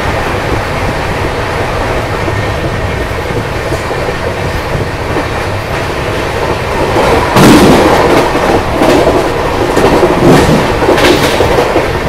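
Inside India's fastest double-decker train at speed near Palghar, a loud, steady rumble of wheels and carriage rattle fills the cabin, growing heavier and more clattering partway through.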